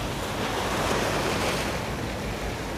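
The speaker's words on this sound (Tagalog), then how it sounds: "Ayan na yung dagat." Sea surf washing steadily against an eroding shoreline in Zambales, Philippines, a continuous broadband roar with wind buffeting the microphone throughout and no voices.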